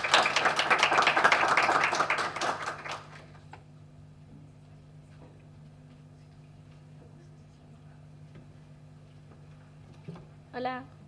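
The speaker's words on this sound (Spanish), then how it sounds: "un aplauso para Sofía, por favor" Audience applause at a university literature colloquium greets a student reader, a burst of many hands clapping for about three seconds that quickly dies away, leaving a quiet room with faint taps and a brief sound near the end.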